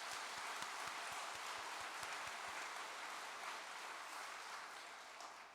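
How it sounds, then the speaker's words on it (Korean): Congregation at a church service applauds a choir, with a broad, even wash of clapping from many people alongside a few low rhythmic thumps early on, slowly tapering toward the end. "여러분 큰 박수"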